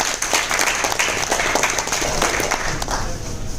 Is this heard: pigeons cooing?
no